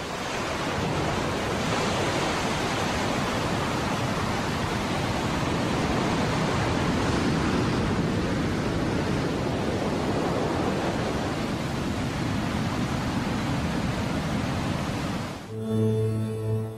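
The Nile in flood rushes as a raging torrent that tears sediment from the mountains, a dense, steady roar of churning water that holds loud and unbroken before cutting off abruptly near the end.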